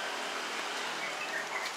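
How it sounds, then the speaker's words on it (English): Light drizzle falls outdoors as a soft, even hiss of fine drops, faint and continuous with no voices. "Oh, it's drizzling now."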